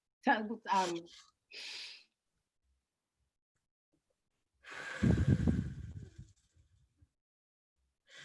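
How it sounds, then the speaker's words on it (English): Deep breaths in through the nose and out through the mouth: several quick sniffing inhales, then a long, louder breathy exhale that trails off, close to the microphone with silence between. "you breathe in from the nose, out from the mouth"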